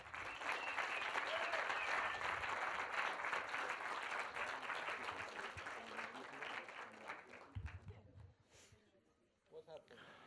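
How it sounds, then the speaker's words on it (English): Applause at a body-modification implant gathering in France, a dense burst of clapping that holds strongly for several seconds, then thins out and fades to scattered claps near the end. "Big applause."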